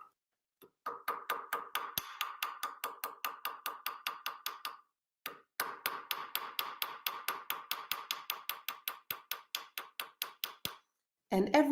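A hammer flattens metal being made into a ring. Rapid, evenly spaced metallic taps ring out close by in two long runs with a short pause between them, and a brief clatter comes at the end.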